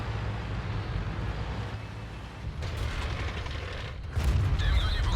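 Deep booming blasts over a constant low rumble, with a louder heavy boom near the end: a T-54 tank cannon firing amid engine drone in a video game.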